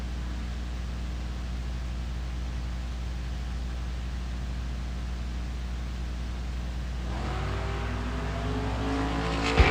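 A tuned-up Camaro at a drag strip sits idling with a low steady rumble, then the engine revs up and the note rises sharply toward the end, growing louder.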